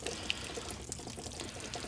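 Water drains out of a part during DIY RV maintenance, giving a continuous close splashing trickle with small clinks along the way.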